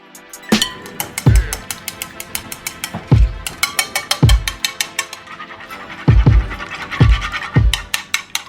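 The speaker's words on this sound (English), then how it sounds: "Let's crack 2 eggs and beat them to get an egg mixture." Two eggs being beaten into an egg mixture for Asian-style fried pork chops, heard as quick rhythmic whisking strikes against a bowl in repeated bursts, close and fairly loud with no talking.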